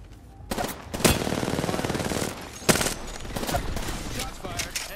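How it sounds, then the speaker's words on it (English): Rapid automatic gunfire in an Apex Legends ranked match, bursts of loud close shots in fast strings with sharper single cracks, with a player's voice faintly underneath. "Shots fired."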